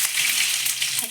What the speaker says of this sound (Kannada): ಸಾಸಿವೆ ಹಾಕೋತಾ ಇದ್ದೀನಿ. ಹಾಗೆ ಕರಿಬೇವಿನ ಸೊಪ್ಪು,